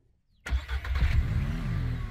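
A small car's engine starts in Ranch Simulator after a short silence, catching with a close, loud turnover and then settling into a steady mid-pitched running hum with a slight rev.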